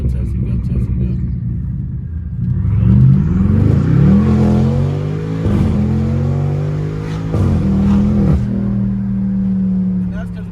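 A BMW 550i with catless downpipes and straight pipes accelerates hard with tires spinning for traction, its engine roaring loud and close with rising revs that drop back and climb again several times.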